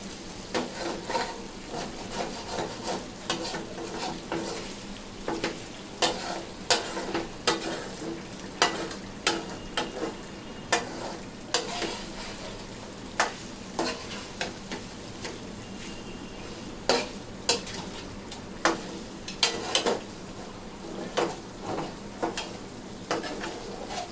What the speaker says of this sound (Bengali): এই সাইডের এগুলি সম্পূর্ণভাবে সুন্দর মতন নেড়ে চেড়ে দিবেন